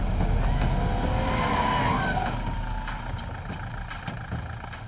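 A car turns sharply with tyres skidding, a loud engine roar and squealing rubber that slowly fades as the vehicle pulls away, with no voices over it.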